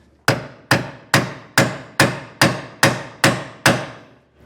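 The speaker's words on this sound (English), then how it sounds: "we're going to take a 9/16 socket that you do not care about, because we're going to be hammering on this" A hammer strikes a 9/16 socket set over a bolt head on a trailer crossmember eight times in a steady, even rhythm; each blow is a sharp, close metallic crack with a short ring-out, and no one speaks.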